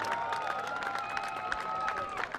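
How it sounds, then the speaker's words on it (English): Stadium crowd applauding during a high school football senior night, a broad, continuous wash of clapping and cheering heard from a distance, with steady hand claps popping through. "One big round of applause for Kyle Bergeron."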